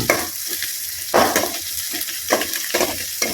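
Onions sauté in oil in a pan for bitter gourd curry, a constant bright sizzle broken by periodic louder stirring scrapes of a ladle against the pan, close up.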